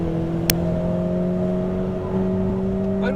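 Ferrari 488 GTB engine on a race track holding a steady, loud, near tone under throttle, with a sharp click early on and a slight rise in pitch near the end.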